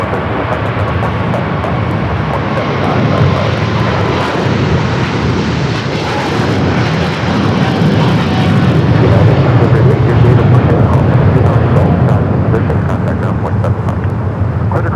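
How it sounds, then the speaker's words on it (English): A Hawaiian airliner, an A321neo or A330, takes off from runway 25 right at LAX, heard as a steady, loud, broadband jet roar that builds slightly and holds throughout. "Still got that Hawaiian A321 Neo and the A330 back-to-back takeoffs on 25 right coming up"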